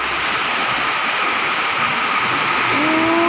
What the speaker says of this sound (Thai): ฝนดตกแรงอ่ะ